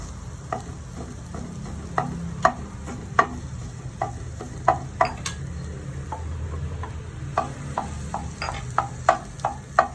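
Egg yolk filling with turmeric is sautéed in a pan for stuffed egg bajji, the spatula tapping and scraping in an uneven rhythm over a soft, low sizzle.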